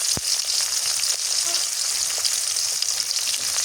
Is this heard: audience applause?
no